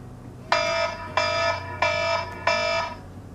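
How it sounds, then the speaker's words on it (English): An electronic alarm sounds four loud, evenly spaced bursts of buzzing tone, each lasting about a third of a second, with no talking. "If another alarm goes off in my video, I'm going to scream."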